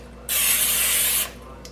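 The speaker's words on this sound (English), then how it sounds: "So I'm gonna spray these" A single sustained hiss of aerosol cooking spray onto baking pans, about one second long, close and loud, starting abruptly and cutting off cleanly.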